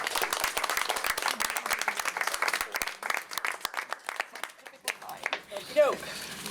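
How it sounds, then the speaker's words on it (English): Audience applause at a school district board meeting, honoring students; steady clapping fills the room, then thins out and fades near the end as a voice begins over the last scattered claps. "let's have another round of applause for our students"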